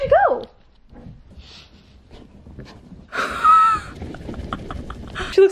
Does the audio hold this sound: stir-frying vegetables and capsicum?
no